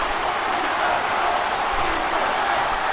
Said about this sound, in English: Crowd chanting, please don't tap to Megatron.